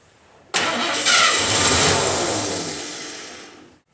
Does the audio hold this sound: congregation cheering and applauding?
no